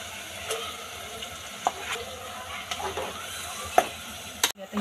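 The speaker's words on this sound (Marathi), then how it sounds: "आता ही डाळ आपण ह्यात टाकून घेतली" Dal goes into a kadhai of onion-tomato masala fried in oil, giving a soft sizzle with a few sharp stirring clinks and scrapes, ending in a louder clatter.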